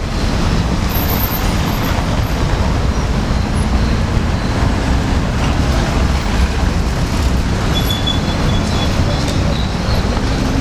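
A tram rolls along street rails in Lviv, a steady loud rumble with wheel and track noise filling the scene throughout, no voices.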